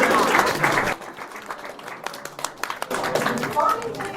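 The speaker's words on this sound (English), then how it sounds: "So let's give them a round of applause." Audience applause at a professional conference in Kyiv, a loud burst of clapping that thins to scattered claps and then swells again, with some voices mixed in.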